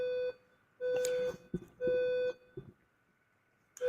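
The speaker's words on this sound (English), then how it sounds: "they're being woken up by the fire alarm" A fire alarm muffled under a pillow and other items gives three long, steady electronic beeps separated by short pauses, with a fourth beginning at the end and soft thumps in the gaps.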